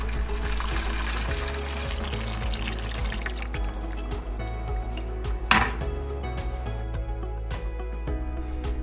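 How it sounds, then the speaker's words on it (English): Water mixed with leftover winter antifreeze and debris drains from the valve of a 110-gallon solar water heater, a steady continuous pouring and trickling close by, with one brief louder splash midway. "This valve allows the release of all collected debris and leftover antifreeze from the winter season."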